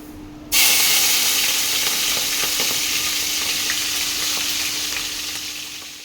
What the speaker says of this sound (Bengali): এটা আমি চিংড়ি মাছটা আগে ভেজে নেব।